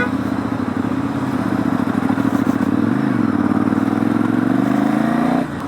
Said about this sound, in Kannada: Ducati first time ಓಡಿಸ್ತಿರೋದು